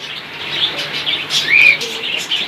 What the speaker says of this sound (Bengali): এখানেও আছে আরেক জোড়া রেন কবুতর খুবই বিগ সাইজ